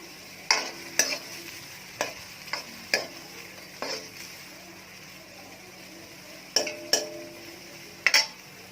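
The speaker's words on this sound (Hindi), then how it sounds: "ये अब तब तक फ्राई करना है जब तक इसका कलर चेंज ना हो जाए।" Tawa pulao ingredients fry on a tawa while a spatula stirs them, giving sharp scraping clacks in irregular bursts over a low, steady sizzle, close and fairly loud, with no talking.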